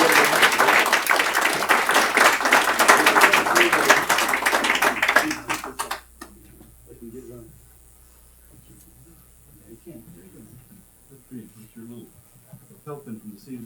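A round of applause fills a city council meeting in Brawley, dense clapping for several seconds that cuts off abruptly, followed by quieter room sounds and scattered voices.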